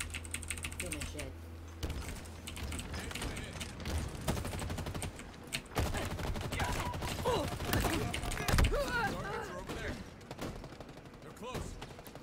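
Shotgun blasts and busy gunfire fill a Halo attrition-mode multiplayer match, with repeated sharp shots under game music and effects, while people talk over the action.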